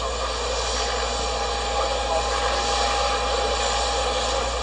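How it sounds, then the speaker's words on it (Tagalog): A constant loud broadband roar from an airplane just landed in the Netherlands fills the whole few seconds with no breaks, and a voice seems faintly present beneath the engine noise. "Yan pala aeroplano yung sinakyan niya"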